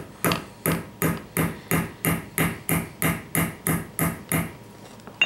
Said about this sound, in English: I'm just gonna hit it with my hatchet just because I don't really have a hammer right here close.